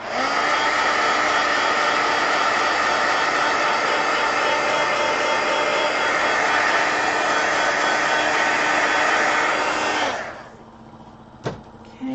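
A heat dryer blows steadily and loudly to dry coloring on paper, a continuous whooshing drone for about ten seconds before it switches off, leaving a brief quiet tap.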